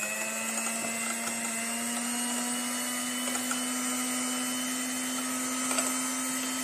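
An electric beater whips cream for homemade three-ingredient ice cream, giving a steady, close, high-pitched motor whine with a bright buzzing drone that holds unbroken throughout.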